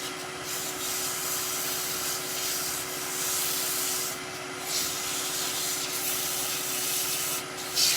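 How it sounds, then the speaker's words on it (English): Steady, continuous rasp of a wood-turned Christmas tree being sanded, close and fairly loud, with slight pauses and no voices. "A little bit of sanding,"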